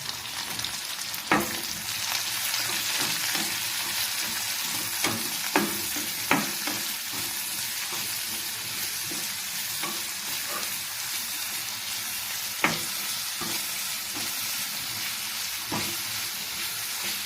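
Finely chopped onion frying in a pan, giving a continuous close sizzle broken by regular spatula knocks and scrapes against the metal.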